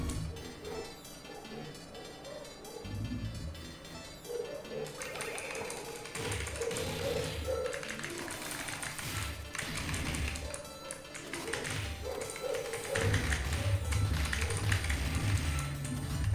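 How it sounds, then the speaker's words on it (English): Fingers typing on a computer keyboard, producing a steady stream of quick, fairly quiet taps and clicks over a busy background with some music-like tones. "Wow, man, I can do so many great stuff with the keyboard"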